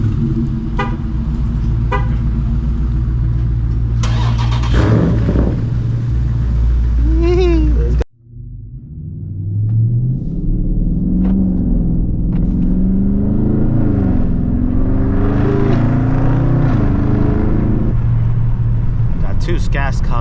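Two straight-piped Dodge Scat Pack cars driving through traffic, heard from inside as loud, steady exhaust drone with revving swells, a brief sharp drop near the middle, and voices talking over it.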